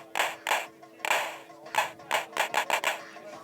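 Synthesized clap sounds from a TiNRS Wobbler2 module: a string of sharp, bright electronic claps in an uneven rhythm, about ten hits, fairly close and alone without talk.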